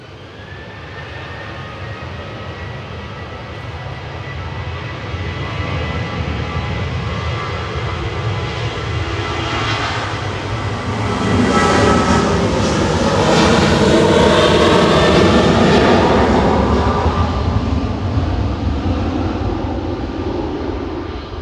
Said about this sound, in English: TUI is touching down in parallel from Funchal with flight 2103.